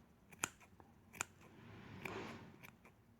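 Scissors trim a fuzzy yarn puff ball with a few sharp, close snips spaced apart, followed by soft rustling of fluffed yarn.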